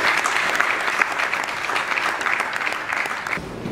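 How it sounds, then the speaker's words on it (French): A conference audience at a university debate on cassava applauds in a sustained, even round of clapping that fills the room, easing off near the end. "par le docteur Bruno Bindamba de Prolanus, que j'invite à prendre la parole sous vos applaudissements"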